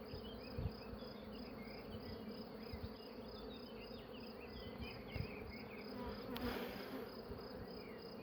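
Honeybees hum steadily inside a beehive in close, continuous buzzing, with soft clicks and bumps of handling throughout.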